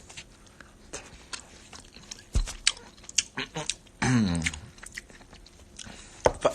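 Someone chews and bites food up close during a mukbang, with wet crunching and smacking sounds in irregular bursts and a brief muffled voice in the middle.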